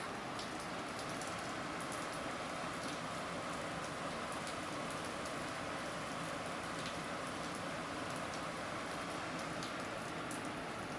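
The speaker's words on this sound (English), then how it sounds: "It's been raining for like half an hour." Steady outdoor rain falls in a continuous broadband hiss with scattered droplet ticks, unbroken and moderately quiet, with no voices and no other distinct sounds.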